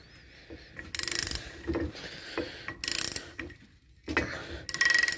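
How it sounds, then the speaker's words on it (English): Bolts on a jet ski SPX jet pump being loosened with a Johnson bar, heard as several bursts of ratcheting and metallic clicking with short gaps between them, close and fairly loud, with no talking. "get your Johnson bar, and again you're going to want to loosen these."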